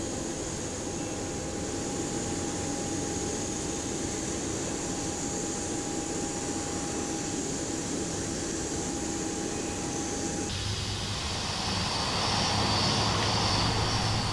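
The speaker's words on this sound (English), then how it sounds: "Starting engine 2" Engine 2 of a jet airliner spools up in a flight simulator game, a steady, loud whine and roar that rises in pitch and grows fuller near the end, with no talk over it.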